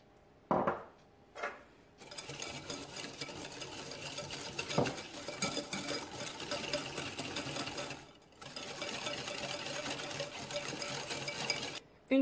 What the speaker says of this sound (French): On va commencer par mélanger donc le sucre avec le beurre.